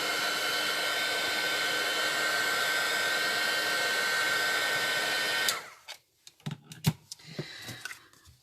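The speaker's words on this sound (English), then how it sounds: "I'm just going to blow dry it" A hair dryer blows on a freshly stamped card with a loud, steady whir for about five seconds, then stops, leaving scattered small taps and handling clicks close by.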